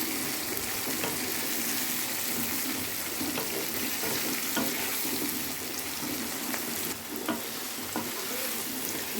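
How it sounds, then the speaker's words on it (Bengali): Onion, garlic, beans, carrot and potato frying together in a pan make a loud, steady sizzle with occasional stirring clicks and scrapes over about nine seconds. "আমি পেঁয়াজ, রসুন, বিনস, গাজর, আলু সব একসাথে দিয়ে নিয়েছি। এবার এটাকে একটু ভেজে নেব"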